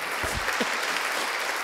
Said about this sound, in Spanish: Dele un aplauso al Señor por ello.